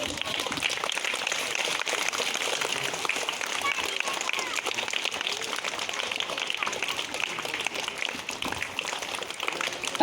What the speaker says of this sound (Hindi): तालियां बजाते रहो, तेज आवाज़ में तालियां बजनी रहनी चाहिए